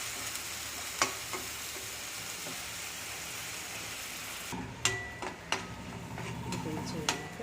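Food frying lightly in a pan while a coriander lemon chicken snack is prepared: a steady, even sizzle, with sharper utensil clicks and stirring scrapes joining in the second half.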